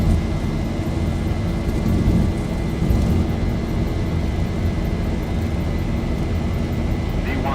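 Boeing 737 engines at takeoff power in the X-Plane 11 flight simulator with the Zibo Mod, a steady, loud, broad roar that holds without a break.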